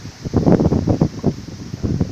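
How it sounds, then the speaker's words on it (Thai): Storm wind blows on a small wind turbine folded away from the wind, making loud, close buffeting gusts that rise and fall in uneven bursts against the microphone. "นี่ตอนนี้คือพายุนะครับ พายุเข้าแล้วครับ"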